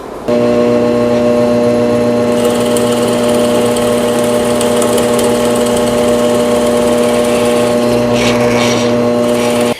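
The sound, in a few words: power drill driving pocket screws into a wooden frame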